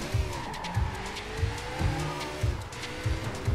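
A fast motorbike races in the video game Sleeping Dogs, with a revving engine whine, rising and falling pitch, repeated thumps and squealing tires, loud and close.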